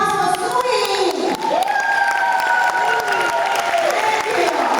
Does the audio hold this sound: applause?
yes